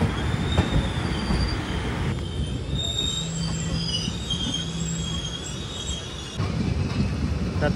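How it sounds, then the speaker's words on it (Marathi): A Ratnagiri–Diva passenger train runs on the Konkan Railway near a station. Sustained metallic wheel squeals ring over a low, steady rumble of rolling stock, with a brief clank partway through. "रत्नागिरी दिवा पॅसेंजर."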